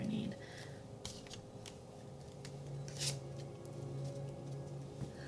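A Healing Energy Oracle card deck is shuffled in light, quick riffling flicks and soft rubs, faint and close, over a quiet steady hum with a voice speaking briefly.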